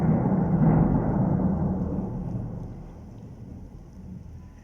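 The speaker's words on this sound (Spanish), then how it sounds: "pero están los truenos con todo. Oigan, escuchen." Thunder during an electrical storm in Querétaro, a single low rolling rumble that swells early, then fades gradually over several seconds, heard in the distance with no voices.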